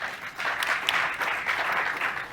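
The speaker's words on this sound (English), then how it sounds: "Let us give him a round of applause." A round of applause from the audience at a panel discussion on city finances, with many hands clapping in an even wash of sound that stays moderately loud and unbroken through the clip.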